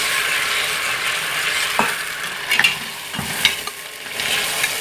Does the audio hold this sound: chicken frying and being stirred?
yes